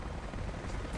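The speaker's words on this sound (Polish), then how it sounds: "To był śmigłowiec Konstantina. Co on tu do cholery robi?" Helicopter in the video game Rise of the Tomb Raider, a dense steady rotor rumble with continuous low-end thrum, fairly loud and close, with no talk over it.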